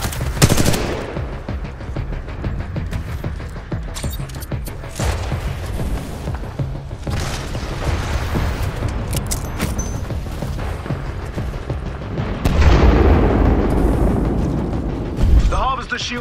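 Heavy gunfire and explosions from a Titanfall 2 multiplayer match: sustained automatic weapon bursts and booms throughout, with a loud blast surge near the end, mixed with in-game announcer voice chatter.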